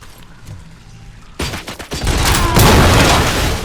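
A grenade explodes in the Robocop: Rogue City video game, followed by heavy bursts of gunfire and crackling impacts, with a quieter stretch of soft noise before the loud, dense combat sounds kick in.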